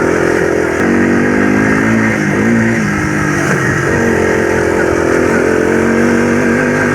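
A YTM225 three-wheeler engine running steadily in fifth gear on an off-road ride, a loud continuous mid-pitched drone with small rises and dips in revs, heard close with no talking.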